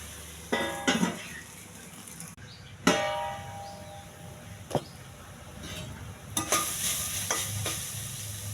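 Koyya kura leafy greens being stir-fried in a pan, with soft sizzling under scattered sharp clangs of a spatula against the pan.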